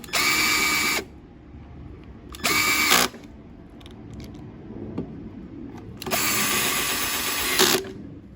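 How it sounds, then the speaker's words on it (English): Power drill driving screws into the plastic of a 2017 Yard Machines 140cc Briggs & Stratton mower, three loud whirring bursts of about a second each with quiet gaps and small clicks between. "Yes, I'm using a drill, but shouldn't do."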